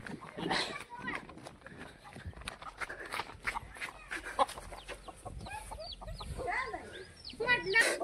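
A rooster clucks in short bursts across a farmyard scene, with shouting people and chasing commotion loud over it and more bird calls near the end.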